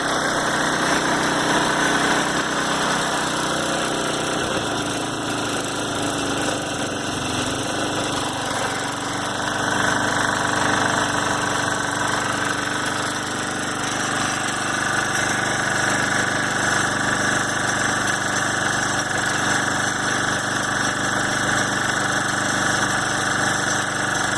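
An old snowblower's small engine runs and idles without choke, a constant, loud, close mechanical drone with a steady vibrating rattle that holds for the whole stretch.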